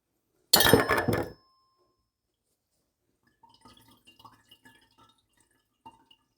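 Buttermilk drips from a bag of freshly made homemade butter into a bowl below, a few faint, irregular drips and light clinks following a short loud burst of rustling.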